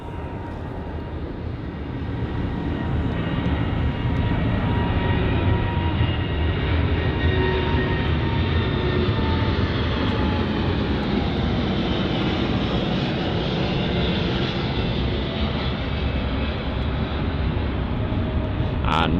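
An airliner going around at London Heathrow produces a loud, sustained jet engine roar that swells and holds steadily as it climbs away.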